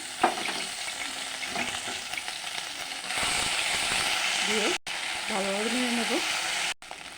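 Bay leaf and ginger-garlic paste hit hot oil for a Bengali fish curry, giving a steady, loud sizzle and spatter that swells around the middle, with a few faint tonal sounds underneath and no talk.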